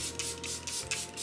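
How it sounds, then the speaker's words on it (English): Several quick, hissing bursts of Charlotte Tilbury cosmetic setting spray, repeated in a loose rhythm, close and fairly soft, with no talking. "Charlotte Tilbury setting spray."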